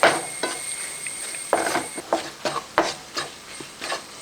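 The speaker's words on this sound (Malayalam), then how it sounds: "ഇഞ്ചി വെളുത്തുള്ളി ഒരു ടേബിൾ സ്പൂൺ ചതച്ച് വെച്ചിരിക്കുന്നത് അതുകൂടെ ഇതിൻ്റെ കൂട്ടത്തിന് കൊണ്ട് ഇട്ട് കൊടുക്കുക ഇനി അതുകൂടെ ഒന്ന് ഇളക്കി കൊടുക്കുക" Okra masala curry stirred with crushed ginger and garlic in a pan, a spoon scraping and rubbing in irregular strokes with occasional sharp taps against the metal, close and without talk.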